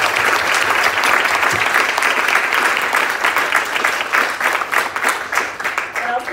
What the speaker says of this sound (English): Please join me in a round of applause for all these donors.